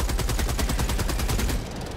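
A heavy machine gun turret in Helldivers 2 hammers at an Impaler in a rapid, steady burst of loud, close shots lasting about one and a half seconds before cutting off into a lingering rumble.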